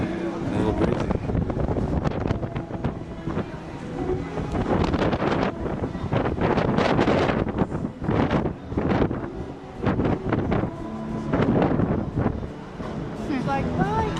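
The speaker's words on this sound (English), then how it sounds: "A little breezy." Strong, gusty wind buffets the microphone on an open cruise ship deck off Alaska, roaring steadily and loudly throughout with brief lulls, while people chat nearby.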